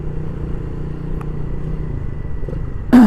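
Modified motorcycle with a shortened front end, running on a short test ride: a steady, close, low engine drone throughout, cut by a brief sharp burst at the very end.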